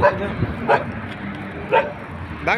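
A local dog gives several short, sharp barks and yips at irregular intervals, fairly close, while a person talks over steady outdoor background noise.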